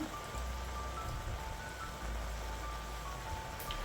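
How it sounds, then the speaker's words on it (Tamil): Dissolved tamarind water pours into a cooking pan with a soft, continuous splashing trickle, faint and steady over a few seconds. "புளி வந்துட்டு நான் கரைச்சி ஊற்றுறேன்"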